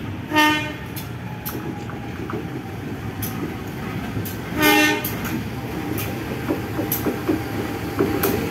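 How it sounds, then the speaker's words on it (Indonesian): Locomotives roll along a railway track squeezed close to houses, with a steady rumble of wheels and clanking plus two loud horn toots, one near the start and one midway. "Kejar-kejaran lokomotif."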